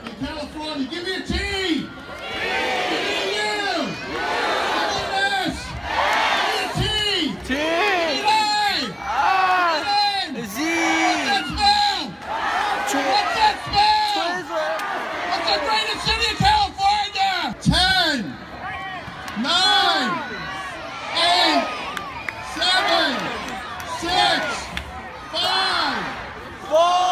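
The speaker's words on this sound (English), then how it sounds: "Let's cheer for the best city in California" A crowd at a Fourth of July fireworks celebration in a California city cheers and shouts throughout, lively voices and whoops rising in waves with busy background chatter and occasional bangs.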